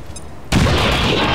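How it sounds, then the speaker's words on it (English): A hand grenade explodes in XCOM, a sudden loud blast after a quiet moment, followed by a sustained roaring rumble of debris and echo that holds at full strength to the end. "Old School is going to throw the first punch. Or in this case, the first hand grenade."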